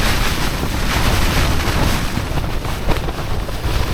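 Steady, loud wind buffets a tent at a sub-zero winter campsite in snow, a continuous broadband roar with gusty swells and rumbling microphone buffeting, no voices.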